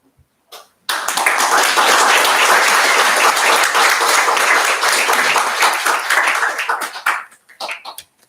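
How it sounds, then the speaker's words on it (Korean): A church congregation at a Korean Sunday second service breaks into loud, sustained applause to welcome the elder pastor, clapping densely for about six seconds before tapering into a few last claps. "나오실 때 큰 박수로 맞이하시면 좋겠습니다"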